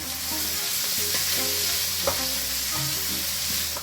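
Garlic and chili sizzle loudly in hot oil while being stirred, a continuous crackling hiss with occasional scrapes and a brief clank of the utensil against the pan.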